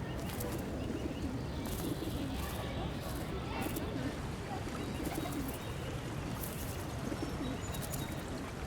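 Pigeons coo in courtship, a run of soft, throaty, repeated calls with some chirps over a busy outdoor background, while a narrator talks over them.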